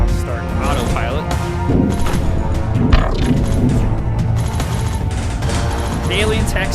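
X-ray lasers and a heavy mag cannon fire in a space game, a dense barrage of rapid shots and crackling bursts with an occasional thump, loud and continuous under someone talking.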